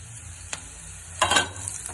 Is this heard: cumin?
yes